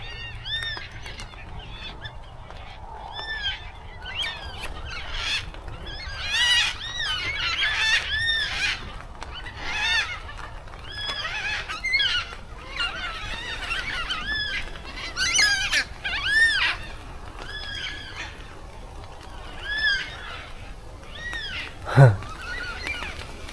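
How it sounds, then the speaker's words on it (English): Birds near a campsite call out in loud, repeated goose-like honks, scattered irregularly across the scene at close to moderate distance, with one sharp call near the end. "These birds always find me somehow."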